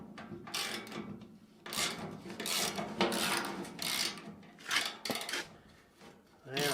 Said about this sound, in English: Let's hope this nut will come undone without any trouble.